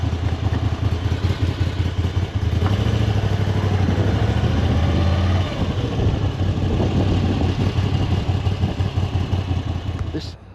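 A Moto Guzzi V85TT motorcycle engine runs close by with a loud, steady, lumpy throb and some mechanical clatter, continuing throughout while people talk over it.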